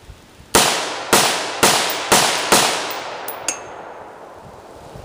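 Five loud gunshots firing PMC X-Tac ammunition, evenly spaced about half a second apart, each a sharp crack with a short decaying tail, followed by faint metallic clinks of brass landing, no talking.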